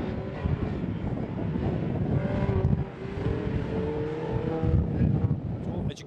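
Mini Cooper race cars idle and shuffle on a starting grid, a blurred mix of engine drone and wind noise with a few revs rising and falling at a moderate distance.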